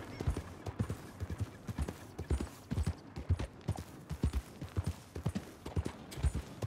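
Horse hooves clip-clop at a steady trotting rhythm while riding in the video game Red Dead Redemption 2, each hoofbeat crisp and close, continuing throughout with no talking.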